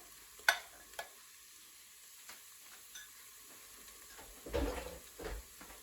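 An egg cooks in a Cosori rice cooker with a faint, steady sizzle, broken by a few sharp utensil knocks early on and a louder burst of stirring and scraping near the end.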